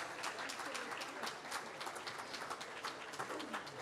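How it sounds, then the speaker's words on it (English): Audience applause closing a reading by Kim Stanley Robinson at a COP event, a steady patter of many hands, fairly faint and distant, with no one speaking. "One more round of applause, please."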